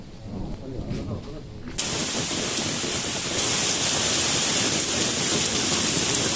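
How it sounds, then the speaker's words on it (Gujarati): Heavy monsoon rain during the Bhadrava season, starting as a soft patter and then suddenly surging into a loud, steady, dense downpour that fills the scene, with some distant thunder. "એટલો સરસ વરસાદ પડે છે"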